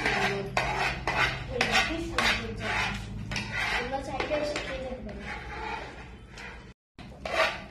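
Cutlery clinks and scrapes against plates as people eat a Bengali meal of dal and vegetable curry at a food shop, with a steady run of close, sharp taps under near-constant conversation.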